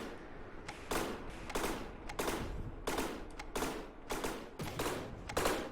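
Anti-air guns on the USS Missouri battleship in a naval video game fire rapid, repeated bursts of sharp gunshots, evenly spaced and steady over a low rumble.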